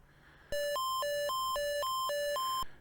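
A bright electronic bell tone in the Atari 2600 game Concentration alternates between two pitches in a quick repeating pattern for about two seconds, then stops abruptly over a quiet background.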